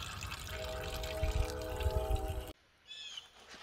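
Reused coolant pours steadily into the radiator of a 2008-2010 Nissan Murano, a close liquid splashing and gurgling that stops abruptly partway through, leaving faint drips.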